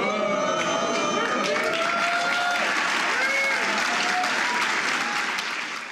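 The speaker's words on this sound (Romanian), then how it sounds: "Aplauze și felicitări au răsunat la Casa Albă atunci când Barack Obama și soția sa și-au dezvăluit portretele oficiale." A White House crowd at a portrait unveiling applauds in a steady, dense wash of clapping, with talk and cheering woven through it.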